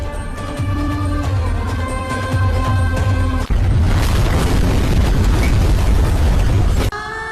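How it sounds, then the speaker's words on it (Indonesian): A sudden loud boom of a plane crashing erupts midway, followed by a sustained rumbling roar of explosion over a dramatic musical background. "Sayangnya pesawatnya oleng sampai terjatuh dan meledak."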